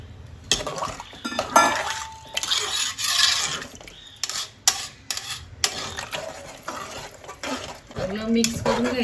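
Masale bhat rice being stirred with water in a pressure cooker: irregular scraping and clinking of a spoon against the metal pot, close and fairly loud, in uneven bursts with brief pauses.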